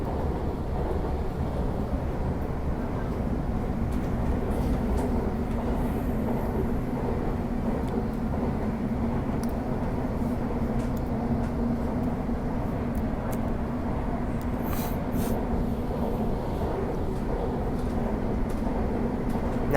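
An MTR R40 metro train runs with a continuous low rumble and rattle that holds steady throughout, with faint metallic squeals partway through.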